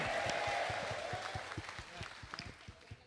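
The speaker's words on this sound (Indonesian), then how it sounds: "Kasih tepuk tangan dulu Bapak Ibu. Tepuk tangan, kasih suara Bapak Ibu." Audience applause at a leadership talk: faint, scattered claps from a small crowd, quiet and somewhat distant, thinning out toward the end.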